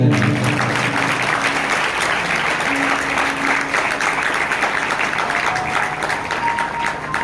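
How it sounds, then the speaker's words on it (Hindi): A church congregation claps loudly and continuously, a dense, steady roar of many hands that holds its level throughout. "ताली को जोर देना।"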